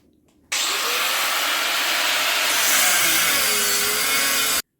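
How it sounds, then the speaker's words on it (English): Angle grinder or metal saw cutting pieces off metal stock, a steady, loud, harsh whine that starts abruptly after a short quiet moment, runs continuously and stops sharply at the end. "So you can cut it off with a metal saw, or you can use an angle grinder."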